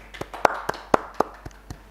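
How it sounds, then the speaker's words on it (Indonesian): A few hands clapping in a classroom, sharp separate claps in a steady rhythm, close and fairly loud. "Oke, tepuk tangan."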